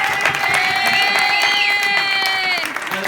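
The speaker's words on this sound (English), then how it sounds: "Give a round of applause." Applause and cheering from wedding guests for the ushers, a steady clatter of clapping with whoops and raised voices running for about three seconds.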